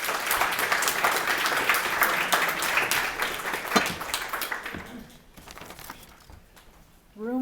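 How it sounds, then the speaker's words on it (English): An audience claps dense and steady for about five seconds, then the applause thins to scattered claps and dies away as the room settles. "make sure that you give them a round of applause"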